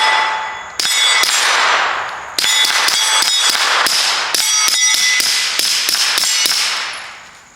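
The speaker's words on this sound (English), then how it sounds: "Let's see how it shoots suppressed." A suppressed Walther PDP Pro SD Compact pistol fires a series of sharp, clanging shots outdoors at a range, about a dozen in quick irregular bursts, close and loud, each ringing briefly.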